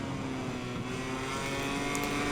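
A KTM motorcycle engine in the MotoGP 21 racing game sings with a steady, sustained high drone while the bike climbs a hill in second gear, constant and unbroken.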